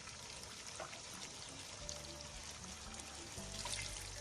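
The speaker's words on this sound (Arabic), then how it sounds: "هلا كمان راح احط من مرقة الدجاج عليه" Chicken broth poured over chicken and bread for Palestinian musakhan, a soft steady trickling pour, close but quiet, with faint kitchen clatter.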